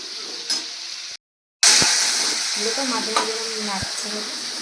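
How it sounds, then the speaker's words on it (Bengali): Loud frying sizzle in a pan with scraping stirs of a spatula, briefly cut to silence before the hiss returns stronger with occasional knocks. "এবার নেড়ে চেড়ে নিয়ে ভালো করে একটু ভেজে নিই"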